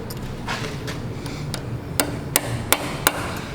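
Sharp metallic taps of a hammer striking a center punch to mark drill holes on an RB25 engine, a few quiet hits followed by four louder, evenly spaced strikes.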